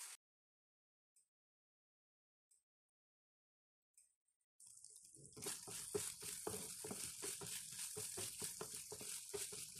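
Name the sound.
marinated chicken frying in oil in a pan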